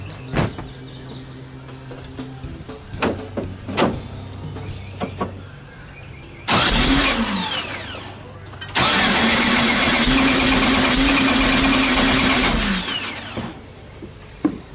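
A 1915cc VW Manx buggy engine, running badly before a distributor fix, is cranked twice by the starter in loud, close bursts after some clicks and handling noises, the second long attempt whirring without catching; someone speaks around it.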